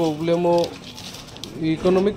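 Black Indian Lokha pigeons coo in two close bursts with a quieter gap between them, soft and nearby, and a voice faintly underneath.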